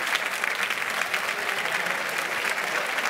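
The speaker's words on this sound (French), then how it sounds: "Sous vos applaudissements." An audience applauds a guest's arrival at a Radio France season-opening evening in Studio 104, the dense, steady clapping of a large crowd filling the whole moment.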